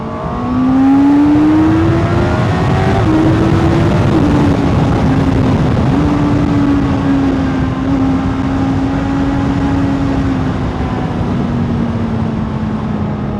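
Honda CBR650R sport motorcycle with E-Clutch accelerating hard, engine note loud and close, rising steadily through the gears with brief dips at each quick shift over a continuous wind-blown roar.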